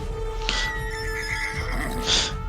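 Horses whinny twice in loud, close bursts, with a soft patter of hooves beneath and a steady hum throughout.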